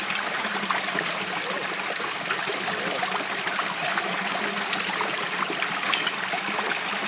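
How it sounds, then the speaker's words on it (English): Water pours steadily through the fine mesh of a dewatering screen on a hand-cranked trommel used for diamond prospecting, a continuous close trickling and splashing with no voices. "The water goes through this fine mesh, but not a lot of the silt."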